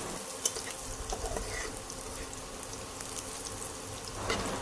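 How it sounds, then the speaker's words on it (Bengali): Onions fry and get stirred in a pan with crackling sizzle and occasional scraping, moderately quiet and continuous, no voices. "তো দেখতে পাচ্ছেন পেঁয়াজটা লাল লাল করে ভাজা হয়ে গেছে।"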